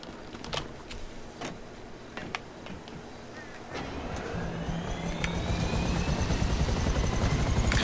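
Buzzard helicopter in GTA 5, its rotor thrum and turbine whine rising and growing louder as it approaches, with scattered clicks and game sounds over the top.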